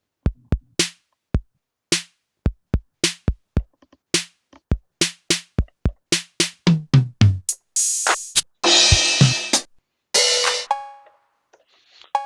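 MicroRhythm drum machine sounds triggered one by one from a MIDI keyboard: a sequence of separate sharp hits and kicks, then longer noisy cymbal and snare tones and a few pitched blips, close and clean with gaps between.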